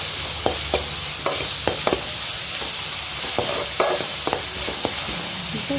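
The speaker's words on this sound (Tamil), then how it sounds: "இப்போ இந்த வெங்காயத்தை நல்லா வதக்கிக்கலாம்." Onions sautéing in a pan for chicken pepper fry, a dense, even sizzle with repeated sharp stirring scrapes and taps spread through the clip, no speech heard.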